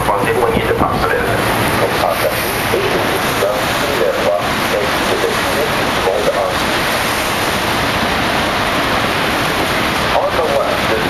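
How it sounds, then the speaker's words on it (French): Niagara Falls roars beside the Maid of the Mist tour boat as a dense, continuous rush of falling water and wind, with speech faintly mixed in. "On the left, this is the Niagra Falls."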